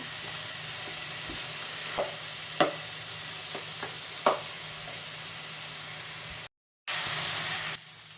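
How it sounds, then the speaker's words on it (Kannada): Bitter gourd curry with tomato frying in hot oil, a steady close sizzle with a few sharp spoon clicks against the pan, a brief dropout, then the hiss returns stronger. "ಇದೆಲ್ಲ ಚೆನ್ನಾಗಿ ಫ್ರೈ ಆಗಬೇಕು ಆಯಿಲಲ್ಲಿ"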